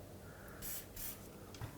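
Rust penetrant is sprayed from an aerosol can near an inner tie rod boot on a 2005-2009 Chevy Equinox: two short, faint hissing bursts a moment apart against quiet workshop background.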